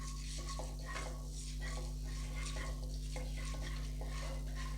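Fenugreek seeds dropped into hot oil over a low flame for a vangibath gojju, with soft frying, a spoon stirring and scraping against the pan in a steady rhythm, close and fairly quiet.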